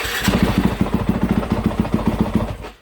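A running motorcycle engine putters close by in a quick, even pulsing idle rhythm, then cuts off and fades to silence near the end.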